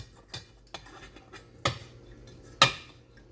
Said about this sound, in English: I'm going to cover it